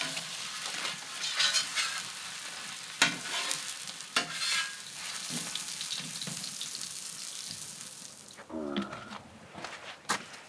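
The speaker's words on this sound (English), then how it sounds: "Patties fries just by the fire." Burger patties fry over an open wood fire outdoors in the wilderness with no added fat or oil, giving a steady crackling sizzle with sharp pops and clatter, close and continuous throughout.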